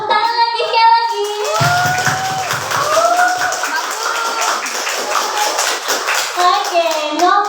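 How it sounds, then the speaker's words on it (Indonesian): Schoolchildren clapping together at a Quran memorization event in a Palembang state primary school, a steady dense patter of hands with a voice speaking over the start and end. "Coba tepuk tangan lagi sekali lagi."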